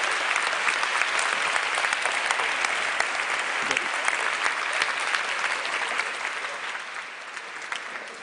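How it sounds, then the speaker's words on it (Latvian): A lecture audience at a Latvian talk on innovation breaks into dense, sustained applause. The clapping is loud and steady and fades slightly toward the end. "šitie aplausi bija tādi paši kā pie Vairas Rīdz Freibergas"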